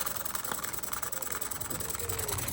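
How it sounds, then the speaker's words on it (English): A small Stuart S50 model steam engine chugs steadily with a fast, even mechanical pulse and a faint hiss throughout. "it actually sounds like a proper steam engine as well"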